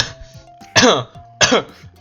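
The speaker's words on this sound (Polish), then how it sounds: "Kaszlnęło mi się." Two sharp, close coughs about half a second apart, with faint game sounds in the background.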